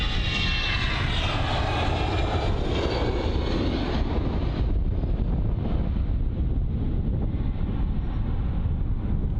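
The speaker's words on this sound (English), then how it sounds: "So the EasyJet A319 heading to Glasgow" An EasyJet Airbus A319 jet departs London Luton, its loud roar rising and sweeping past before fading into a distant rumble under wind buffeting the microphone.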